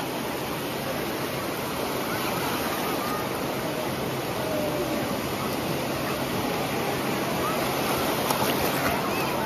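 Sea waves at Digha beach wash in steadily as a broad, constant roar that fills the scene without clear breaks, with voices faintly mixed in.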